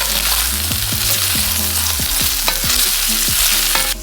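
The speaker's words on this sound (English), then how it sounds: "I'm going to just quickly fry them off in the pan for like 2 minutes" Cauliflower seasoned with dry thyme fries in a pan, a steady close sizzle running throughout, broken by repeated scraping stirs and clinks of a utensil against the pan.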